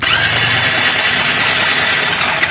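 Hero Splendor BS6 FI motorcycle self-starter cranking in a garage while the bike fails to start, a loud steady whirring drone held for about two and a half seconds with no voices.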